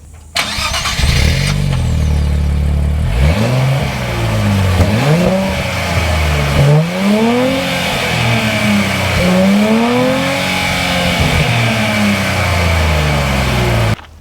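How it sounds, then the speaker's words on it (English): A 2024 Nissan Z with the performance-pack sport muffler starts up and revs several times, its exhaust rising and falling in sharp, loud sweeps close by before settling to a steady idle. "You get a sport muffler instead of the standard muffler. Let's hear that real quick."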